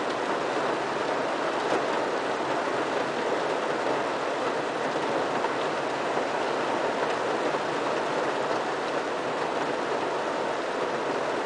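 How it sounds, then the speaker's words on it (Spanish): Steady rain falling outdoors, a continuous even wash of dense hissing drops with no break and no voices. "Está lloviendo, Sofía."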